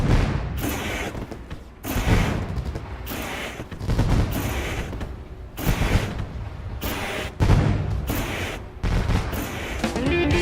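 Fireworks burst over the back straight after a Dirt Late Model race at Eldora Speedway, loud booming volleys in clustered rapid bursts with brief gaps between them.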